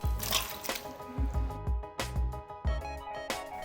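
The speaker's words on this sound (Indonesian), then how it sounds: "Lalu masukkan potongan tahu yang sudah kita siapkan tadi." Pieces of tofu plop one after another into a bowl of wet batter, a series of soft, close, squishy drops in an uneven rhythm over quiet background music.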